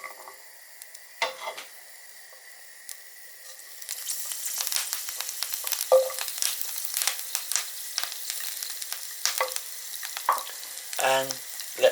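Thyme and garlic hitting hot oil in a pan, starting as a faint hiss and swelling after a few seconds into a steady, crackling sizzle with scattered pops and a few clinks of utensils.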